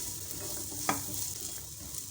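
Water chestnuts with spices frying on a low flame, a constant gentle sizzle with one brief stirring scrape near the middle.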